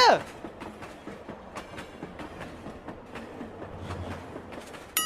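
A train passes with rhythmic clickety-clack of wheels over rail joints and a rumbling of carriages at moderate distance, with voices heard faintly over it.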